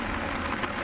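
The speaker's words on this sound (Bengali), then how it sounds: "দেখো বৃষ্টি পড়ছে বিশাল।" Heavy rain pours down outside a pigeon loft, a steady, dense hiss of drops that fills the short moment evenly without pause.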